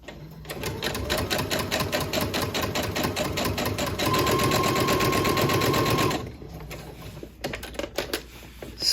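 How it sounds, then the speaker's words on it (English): A sewing machine stitches a Christmas tree skirt in a fast, even run of needle strokes for about six seconds, loud and close, then stops, leaving a few light handling noises. "I'm just going to sew right up to where my stitches are."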